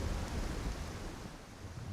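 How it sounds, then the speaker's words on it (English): Rain falls through a thunderstorm, a soft, constant wash over a low rolling rumble of thunder, faint and with no speech. "a lot warmer and a lot happier if it wasn't raining dogs"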